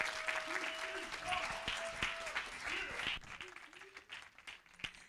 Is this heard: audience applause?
yes